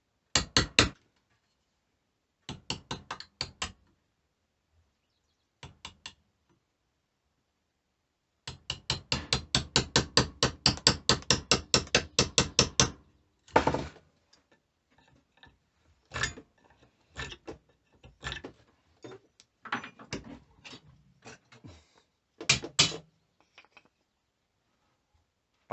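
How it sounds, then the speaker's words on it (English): A chisel struck by a mallet while cutting wood for a hunter's knife, sharp close knocks in quick rhythmic bursts, then slower separate blows and gaps of silence. "Note I'm making a slight rolling motion with the chisel."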